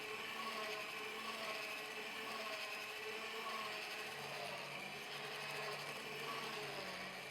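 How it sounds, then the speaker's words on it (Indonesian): Electric mixer running on low speed through donut dough with margarine and salt, a steady faint mechanical whir and rattle throughout with no talking. "Lalu aku mixer dengan speed rendah sampai semua bahan ini tercampur rata."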